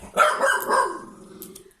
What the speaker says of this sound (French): Léo, t'as fini de parler à l'abat-jour. Il ne te répondra pas, c'est pas un chien ni un humain